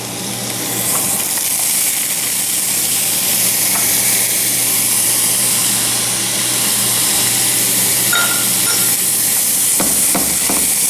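Garlic and sliced red pepper frying in a pan, a steady close sizzle and hiss throughout, with a few light clinks of a utensil stirring toward the end.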